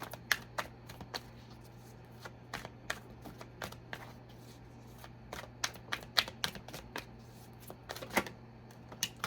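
Tarot cards being shuffled and drawn by hand, giving irregular bursts of crisp riffling and snapping slaps, close and fairly quiet, over a steady low hum with no talking.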